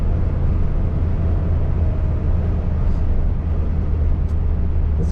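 A 1977 Pontiac Trans Am tribute car is driving along, its engine and road noise forming a steady, loud, unbroken rumble heavy in the low end, with no talk over it.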